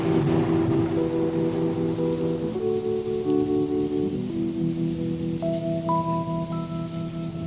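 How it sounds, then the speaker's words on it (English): Steady rain hiss with low rumbling thunder washes under sustained electric piano chords in a song, the storm effect continuous and prominent beneath the music, with no voices. "More thunder, bring in the thunder."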